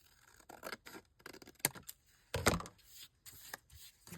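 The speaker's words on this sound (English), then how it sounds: "Okay, I am going to cut this. So we'll cut it across." Scissors snip through scrap paper in a quick series of short, crisp cuts, close and fairly quiet, with brief pauses between snips.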